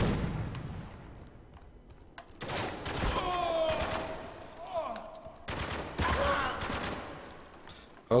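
Bursts of gunfire in the video game Spec Ops: The Line, loud clustered volleys coming in two main waves with quieter stretches and some voice-like sounds between them.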